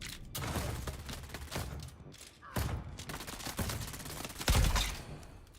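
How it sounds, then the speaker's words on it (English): Rockets and grenades fire nonstop in Dune Awakening, a dense barrage of loud blasts and booming impacts that keep overlapping, with heavier thuds near the middle and toward the end. "My God, there are a lot of rockets. This is non-stop rockets."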